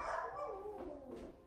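A dog gives a quiet, short whining yelp indoors during a yoga class, faint and brief, with no talking over it.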